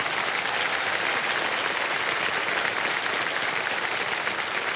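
A game show studio audience applauds steadily and loudly for the arriving guest, Krushna Abhishek, a continuous even roar of clapping with no break.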